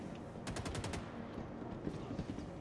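Rapid automatic gunfire from a gun in the video game Star Citizen, a loud burst of about six quick shots followed by background game noise and scattered faint impacts.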